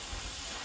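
Steady roaring hiss of an oxy-fuel cutting torch preheating a section of used, rust-lined oilfield pipe, continuous and fairly loud with no break.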